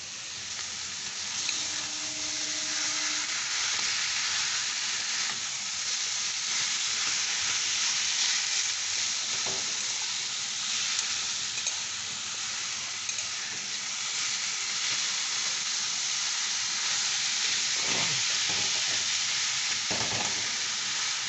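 Boiled cabbage and a katla fish head sizzle and fry steadily in a pan, a continuous broadband hiss with occasional scraping stirs.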